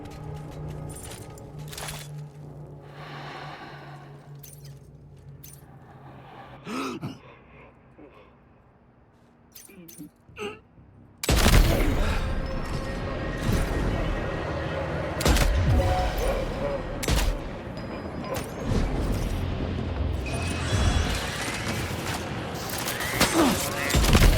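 Sniper rifle shots in the Death Stranding 2 game, sharp loud cracks that start after a quiet stretch, followed by a dense burst of impacts and rattling over game sounds, with a voice talking.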